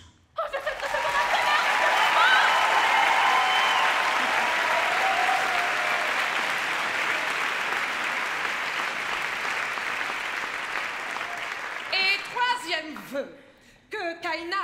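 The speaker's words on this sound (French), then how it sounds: "que Kaina reçoive un tonnerre d'applaudissements" Thunderous audience applause at a musical theatre awards ceremony at the Folies Bergère, a dense, loud wash of clapping sustained for about twelve seconds, then fading into scattered laughter and voices.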